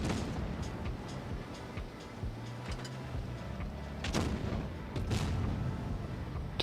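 Gunfire in an online competitive shooter, with several sharp bursts of shots and booms over a continuous noisy game soundscape, fairly loud against the background.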